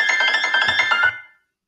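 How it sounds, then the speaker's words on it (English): Cell phone ringing in a home office, a short bright electronic ringtone melody of about a second that cuts off abruptly, heard alone and close. "Excuse my cell phone there."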